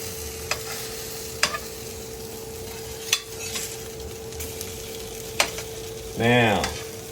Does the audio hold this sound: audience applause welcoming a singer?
no